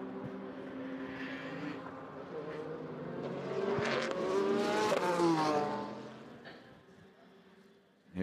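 At the 2016 Le Mans race, the No. 6 car, running third, approaches with a rising engine drone. It swells to a loud, pitch-bending pass and then fades away over several seconds, with no commentary over it.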